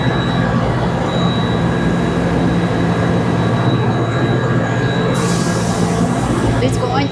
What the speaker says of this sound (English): And I see a train up there.